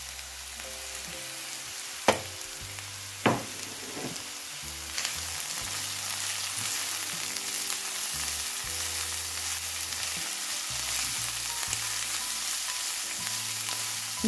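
Carrots tipped into a hot pan crackle and sizzle steadily, with a couple of sharp clatters early on before the frying settles into a constant hiss.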